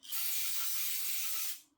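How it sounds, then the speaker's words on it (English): Aerosol cleaner hissing in one steady, close burst of about a second and a half as it is sprayed into the openings of an old pressure washer, ending with a brief fading tail. "Just spray like literally everywhere that I can"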